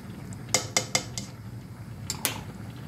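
A metal lid is set on a pot of simmering pasta, giving a quick series of four bright clanking clinks, a pause, then two more clanks close by over a low bubbling hum.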